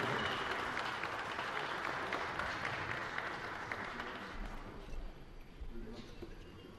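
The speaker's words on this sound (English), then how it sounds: "Let's give the guys another round of applause as they walk off the platform" Audience applause fills an arena at the IPF World Classic Powerlifting Championship as lifters walk off the platform, a dense, steady clapping that thins slightly toward the end.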